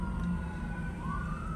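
A distant ambulance siren wails at night along a road in North Fort Myers, Florida, a faint rising tone drifting under steady car and engine rumble.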